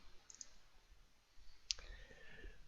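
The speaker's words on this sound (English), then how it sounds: "So you click OK." A computer mouse gives one sharp click near the middle of a quiet stretch, with a couple of faint ticks just before it and low room noise throughout.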